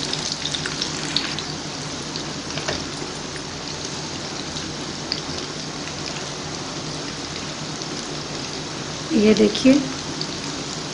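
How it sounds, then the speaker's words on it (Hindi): Pieces of arbi (taro) leaf sizzle in hot oil in a home kitchen, a steady crackling hiss throughout with a brief louder bubbling burst near the end, while someone talks over it. "हम इसे फ्राई करेंगे अच्छे से।"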